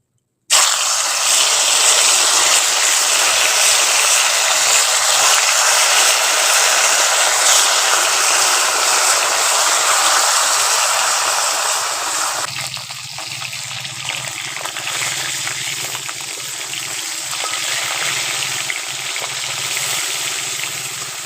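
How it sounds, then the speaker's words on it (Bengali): Snakehead fish sizzles loudly as it fries in hot mustard oil, a steady hiss that softens and settles partway through while it keeps bubbling. "ওই তেলের মধ্যে মাছগুলো দিয়ে দিচ্ছি"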